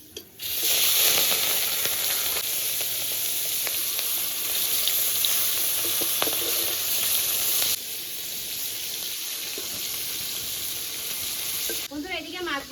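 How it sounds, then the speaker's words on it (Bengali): Tangra fish coated in turmeric and salt fry in hot oil with a strong, continuous sizzle that drops a little partway through, then ends with a brief clatter at the close, no talking. "এখন মাছগুলো ভেজে নিচ্ছি।"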